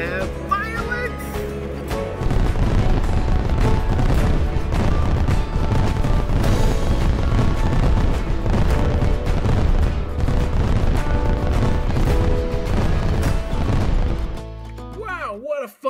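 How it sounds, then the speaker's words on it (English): Fireworks at a ballpark night game burst in a dense, continuous barrage of booms and crackles for about twelve seconds, loud and reverberant, with voices and crowd noise around them before and after. "We have fireworks!"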